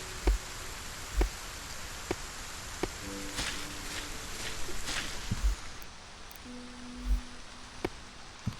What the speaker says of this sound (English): It's about time we get out of this rain.